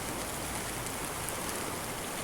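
Heavy rain pours down in the Carpathian mountains beside the rising Cheremosh river, a dense, continuous hiss of falling water that stays uniform and fairly loud throughout.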